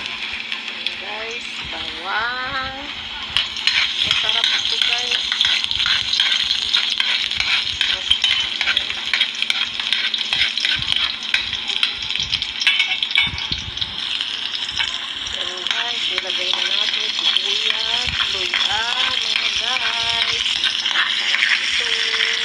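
Palaypay greens hit a hot pan and sizzle loudly and steadily, with repeated close clatters and scrapes of a spatula stirring, and a voice talks briefly near the start.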